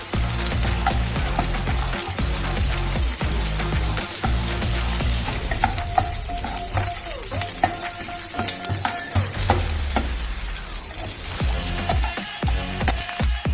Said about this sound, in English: So I'll be adding the capsicum and onion into this.